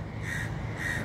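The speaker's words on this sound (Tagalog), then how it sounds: "So ayan yung mga uwak, oh. Dami nila." Crows perched in trees near a rooftop in the late afternoon give two loud, harsh caws about half a second apart, clear against a low background hum.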